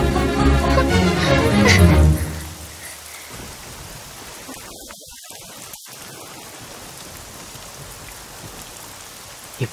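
Steady rain pours down with a dense, even hiss of drops hitting surfaces, with a loud rumbling swell at the start that fades out, leaving a constant downpour.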